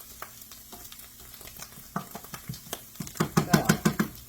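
Garlic fries in a pan for a stroganoff sauce, a close sizzle broken by rhythmic scraping and knocking of a spoon against the pan, growing louder and quicker toward the end.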